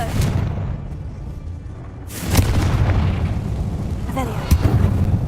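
A single Confringo blasting spell bursts with a loud boom inside a closed mine in the Hogwarts Legacy video game, followed by a rumbling tail and a smaller pop near the end.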